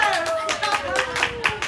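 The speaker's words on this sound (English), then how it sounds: "good round of applause for DexGrid" Audience applause for a microgrid project team: a short burst of close, busy clapping with a voice talking over it the whole time.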